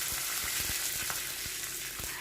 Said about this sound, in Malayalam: അതിലേക്ക് കുറച്ച് വെളിച്ചെണ്ണ ഒഴിച്ചിട്ടുണ്ട്. പിന്നെ കടുക് പൊട്ടിക്കുകയാണ്.